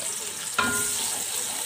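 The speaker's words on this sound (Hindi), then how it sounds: "प्याज को हम कर लेंगे फ्राई, डार्क गोल्डन कलर हम करेंगे" Onions hit hot oil in a pot for beef pulao, setting off a sudden sizzle that settles into a steady, fairly quiet frying hiss.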